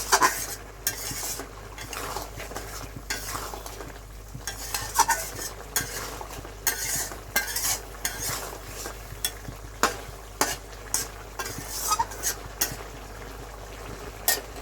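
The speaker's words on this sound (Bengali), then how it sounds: "নাড়াচাড়া করে আবার একটু মিশিয়ে নিচ্ছি সমস্ত মশলার মধ্যে বা ডিমের মধ্যে আলুর মধ্যে" Egg masala with potatoes and spices sizzles and fries in a pan, while a utensil scrapes and clinks against the metal in an irregular stirring rhythm. The sound is close and continuous, with no talk over it.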